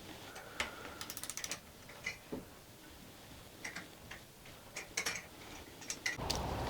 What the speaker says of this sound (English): we're going to do the bolt up using a torque wrench to 6 Newton meters